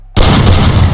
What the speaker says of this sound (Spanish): Nos vamos con la escopeta.